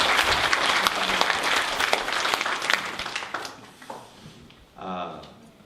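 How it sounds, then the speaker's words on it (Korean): Church congregation applauding during a Sunday worship service, dense steady clapping that fills the room for about four seconds before thinning out, followed by a brief spoken phrase. "이 시간 한번 격려의 박수 한번 부탁할까요?"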